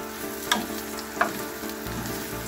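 Onions sizzle and fry steadily in a hot pan while pork steak is cooked, with a couple of sharp clacks of stirring over the constant hiss.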